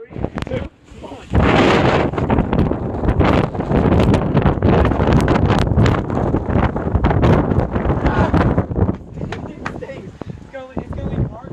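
Strong tornado wind roars and buffets the microphone almost continuously, with loud gusting rumble and rustling, while people shout and talk excitedly over it.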